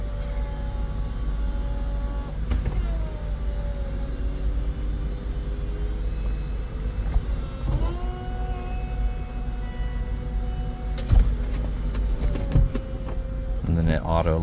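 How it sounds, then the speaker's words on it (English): A power convertible top on a 2012 Aston Martin V8 Vantage convertible runs through its cycle with a steady low electric motor whine and mechanical shifts, ending in clunks and latching sounds as it locks, while someone talks over it. "here you have your power convertible top"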